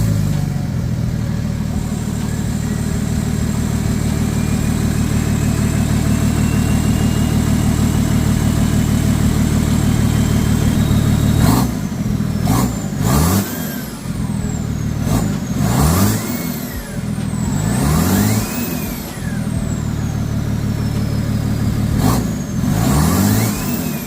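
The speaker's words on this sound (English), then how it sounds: "What does it sound like? Open downpipe." A BMW 335d diesel with an open downpipe idles with a loud, raspy rumble for about ten seconds, then revs sharply several times in quick bursts, each dropping back toward idle, with no talking.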